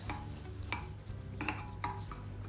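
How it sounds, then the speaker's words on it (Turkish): A knife slowly slicing through a hot, cooked closed hamburger with a siyez flour and yogurt dough crust, giving soft, close scraping and crunching cuts in a few separate strokes over a steady low kitchen hum. "Bak şimdi yavaşça kesiyorum"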